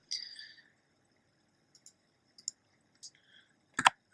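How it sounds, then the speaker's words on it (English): Short bursts of clicking from a plastic computer keyboard, a few scattered keystrokes separated by pauses and then a louder cluster of clacks near the end, close and dry with no talk. "Oops, I'm typing in English."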